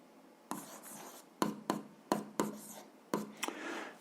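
Pen strokes of a hand writing out a simple algebra equation for a 7th-grade exercise, a few short scratchy bursts separated by pauses, close and fairly quiet with no talking.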